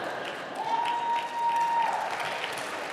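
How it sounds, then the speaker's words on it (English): Audience applause at a university speaker event, a steady wash of clapping at moderate distance lasting the full few seconds, with a faint tonal whistle partway through. "What are you clapping for?"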